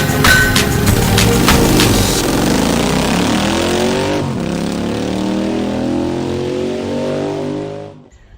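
A 2019 Indian Scout motorcycle engine revs up loudly nearby, rising in pitch, then settles into a steady lower drone before cutting off abruptly at the end.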